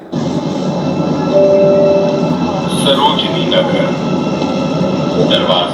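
A Delhi Metro train simulator at an expo runs with a steady, loud rumbling hum and a brief electronic tone, with faint voices in the background.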